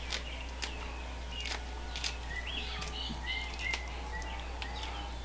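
Small birds chirp and trill in the afternoon at a rural ranch, producing faint, intermittent calls over a steady low hum and background noise, with no talking.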